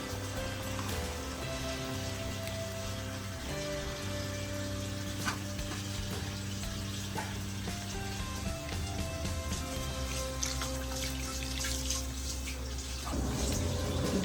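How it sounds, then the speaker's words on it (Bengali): Water poured into a simmering Bengali rui fish curry, making a steady bubbling, sizzling hiss that stays continuous and even throughout, close by and with no voices. "এখন একটু জল দিয়ে মাছগুলোকে ভালো করে ফুটিয়ে নেবে।"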